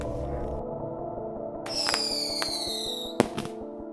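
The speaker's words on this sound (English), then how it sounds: "The fireworks became almost continuous." Fourth of July fireworks bursting one after another, with sharp crackling pops and a loud boom near the end over a constant low rumble.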